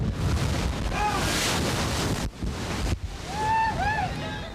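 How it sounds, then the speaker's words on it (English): Storm waves slam into a sea wall at high tide on the San Diego coast, a loud continuous roar of surf and wind with brief dips, plus a few whistling tones toward the end; no talking. "For an hour either side of high tide, waves crashed into the sea wall, exploding skyward."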